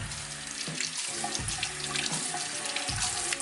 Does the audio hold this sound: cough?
no